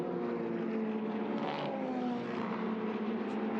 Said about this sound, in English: I wonder whether David Lim is lining up that all-blue machine now for potential overtake as well